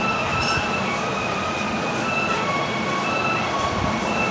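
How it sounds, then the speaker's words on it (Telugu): A passenger train to Shirdi rolls steadily along the railway, heard from inside as a continuous loud rumble of wheels on track with faint metallic squealing tones. "ఇంకా ట్రైన్ జర్నీ అయితే స్టార్ట్ అయిందండి"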